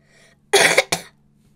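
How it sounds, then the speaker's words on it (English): A single sharp cough, close and fairly loud, made of two quick bursts, with near silence around it. "Beautiful cough right there."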